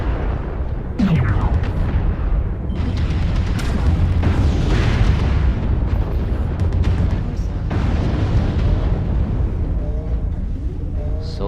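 Friendly-fire explosions in MechWarrior Online, heavy booming blasts rolling into one another over a steady loud rumble, close and continuous, with a few sharper bursts standing out.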